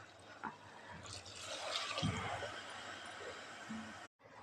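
A glass of water is poured into a cooking pot of spiced brinjal curry, a brief, faint splash and gurgle in the middle of a quiet kitchen.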